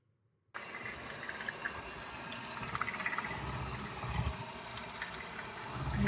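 A cup of milk poured into a bowl of batter while baking a pumpkin cake, a soft continuous liquid gush beginning abruptly and running steadily, close and quiet.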